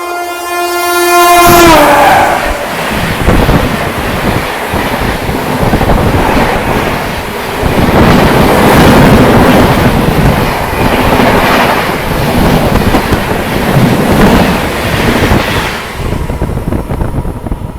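Kashi Mahakal Express (Ujjain to Banaras) overtaking on the Indian railway, opening with a loud horn blast, then a close, heavy roar of coaches rushing past with rhythmic wheel clatter that fades at the end.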